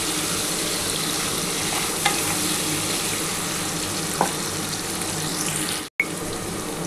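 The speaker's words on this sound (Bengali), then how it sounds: "বন্ধুরা দেখো আমার আলুটাও কিন্তু লাল করে ভাজা মোটামুটি হয়ে এসছে" Potato pieces fry in hot oil for a cauliflower and prawn curry, giving a steady, dense sizzle with a couple of faint clinks and a brief cut near the end.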